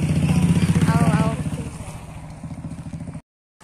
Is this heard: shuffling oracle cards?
no